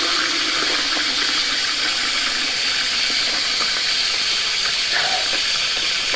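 Water pours steadily into a bowl meant to keep shaving soap warm, a continuous loud hissing splash that runs unbroken from start to finish with no talk.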